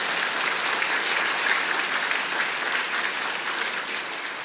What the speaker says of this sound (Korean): 우리 힘있게 한번 박수하시겠습니다.